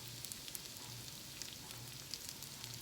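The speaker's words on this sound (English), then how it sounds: "After that, we're going to add our chopped vegetables," Chopped summer squash and mushrooms sizzling in butter in a pan, a steady, soft frying hiss with faint crackles running throughout.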